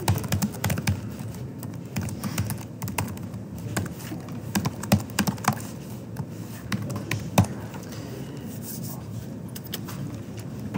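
Someone types JavaScript code on a computer keyboard, producing close, irregular bursts of clicky keystrokes with uneven pauses and a little faint background murmur.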